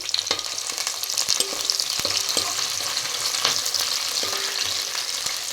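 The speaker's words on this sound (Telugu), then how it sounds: "పచ్చిమిరపకాయలు కూడా వేసేసుకుందామండి కొద్దిగా కరివేపాకు ఇవన్నీ అయితే వేగనిద్దామండి" Green chilies and curry leaves with onion pieces crackle and sputter loudly in hot oil in a pan, a dense steady sizzle punctuated by sharp pops and occasional stirring clicks, no voices.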